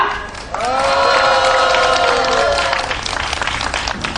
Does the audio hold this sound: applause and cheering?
yes